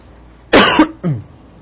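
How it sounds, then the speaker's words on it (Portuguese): Two sharp coughs close to the microphone, the first harsher and longer, followed after a short pause by a second, shorter cough. "Agora bateu a tosse aqui, era só que me faltava"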